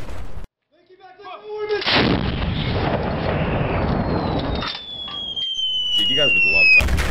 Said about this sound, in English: Oh, it's an artillery.